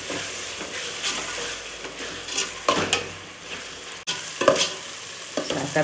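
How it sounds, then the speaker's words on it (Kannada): Ginger garlic paste fries in a pan for vangi baath, a close, steady sizzle broken by several sharp scraping stirs of a spoon against the metal, with no talking. "ನಾನು ಶುಂಠಿ ಬೆಳ್ಳುಳ್ಳಿ ಪೇಸ್ಟ್ ಕೂಡ ಹಾಕೊಳ್ತಾ ಇದ್ದೀನಿ ನೋಡಿ ಇವಾಗ ಚೆನ್ನಾಗಿ ಫ್ರೈ ಮಾಡ್ತೀನಿ"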